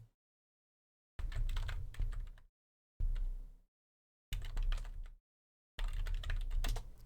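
Bursts of typing on a computer keyboard while searching Google, with four separate runs of close, rapid key clicks broken by short silences and no talking.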